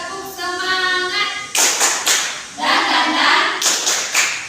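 An elementary school class does a rhythmic spirit clap (tepuk semangat): two short bursts of many hands clapping together, each following a quieter sung or voiced tone, loud and close in a classroom.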